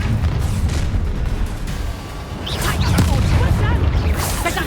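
Hogwarts Legacy battle with a Bombarda blasting spell going off, a loud rumbling boom over a dense roar of magical combat, with sparkling crackles and voices mixed in.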